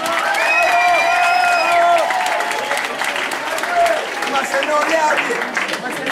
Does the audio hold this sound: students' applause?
yes